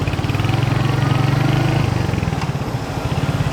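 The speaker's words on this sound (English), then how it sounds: "Yeah, this is a great little bike, great little torquey machine." A Royal Enfield Hunter 350 motorcycle engine runs steadily and fairly loud, with a close, pulsing single-cylinder thump that shifts pitch partway through, as if changing speed while riding on streets in Cebu City.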